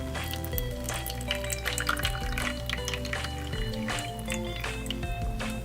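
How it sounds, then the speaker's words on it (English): Water pours and drips into a toy cooking pot in play soup-making, a light trickling splash against a steady background of musical tones. "And add 1 cup of water."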